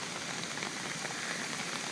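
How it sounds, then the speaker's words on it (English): Heavy rain and a small waterfall on a flooded path make a dense, steady outdoor rush of falling water, continuous and even with no voices. "We have our own waterfall. It sounds amazing."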